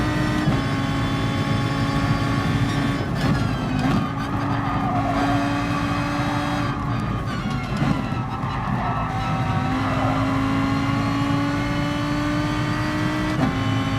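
A Lamborghini Huracán Group 4 race car in Gran Turismo Sport howls at high revs around a track, its engine note holding close and loud with shifts in pitch as it accelerates. Faint tire noise sits underneath.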